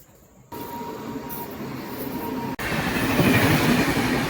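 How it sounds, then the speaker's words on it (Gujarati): A passenger train pulls into a nearly empty station on a line to Botad: a broad rumbling roar swells after a brief quiet moment and grows steadily louder and closer, with no voices. "ફાઇનલી આપણે ટ્રેન આવી ગઈ છે"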